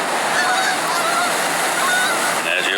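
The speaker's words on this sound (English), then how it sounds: "Here comes all the Canada geese." Canada geese honk in scattered, overlapping calls along the Niagara River, set against a steady roar of rushing water that fills the whole scene.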